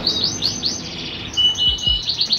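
An imported canary chirps in a rapid series of bright, high tweets and short trills, close and clear, with a few soft low thumps beneath.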